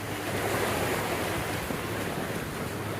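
Ocean waves rolling onto a beach in a continuous, loud surf roar, mixed with gusty wind buffeting the microphone.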